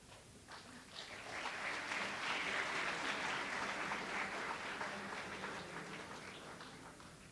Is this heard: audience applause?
yes